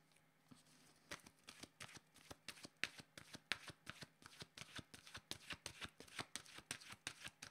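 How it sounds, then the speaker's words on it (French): Oracle cards shuffled by hand in a quick, steady run of soft riffling snaps, quiet and close with no talking. "Je vais demander une carte de mon oracle de l'âme intuitive."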